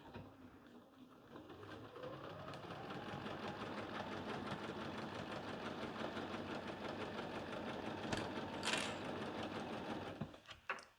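A sewing machine back stitching along quilt binding, a fast steady whirring hum of the needle running for several seconds before slowing and stopping.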